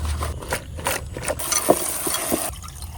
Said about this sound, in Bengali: এখন এই আনাদি কেলা ধুইতে হইবে